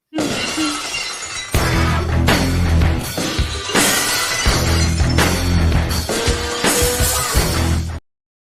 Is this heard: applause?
no